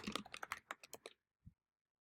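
Quick keystrokes patter on a computer keyboard in a short burst of about ten taps, close and crisp, followed by a pause and one softer final key press.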